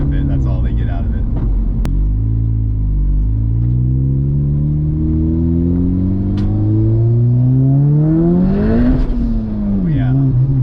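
K-swapped Porsche accelerating at half throttle, a close engine drone rising steadily in pitch through the gears with a brief dip near the end, while people talk over it inside the car.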